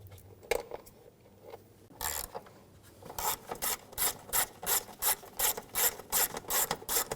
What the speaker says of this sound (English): Using a T30 socket, take these bolts out, or screws.